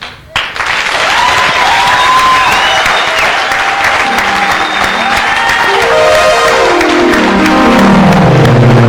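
A congregation at a healing prayer-line church service claps loudly and steadily, a dense wash of applause with some cheering, while organ or keyboard notes rise underneath toward the end.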